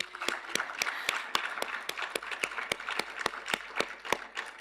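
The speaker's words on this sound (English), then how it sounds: "let's give a round of applause to our technical committees" Evenly spaced claps ring out at a launch event for a sustainable finance roadmap in Ghana, a thin, steady round of applause from a modest audience, heard at some distance with no talking.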